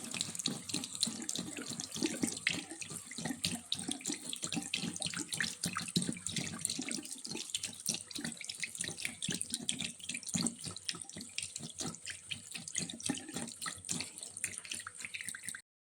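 Water poured into a cooking pan for shark fish curry, a steady close splashing stream running continuously for about fifteen seconds before stopping abruptly, with no voices.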